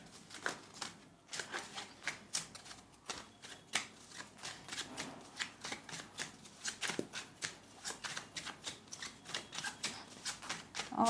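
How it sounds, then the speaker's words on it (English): Repeated riffle shuffling of tarot cards, a steady run of crisp flapping bursts close by, continuing without pause and with no talking. "So let's shuffle the cards."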